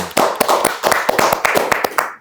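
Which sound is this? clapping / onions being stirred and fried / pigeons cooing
clapping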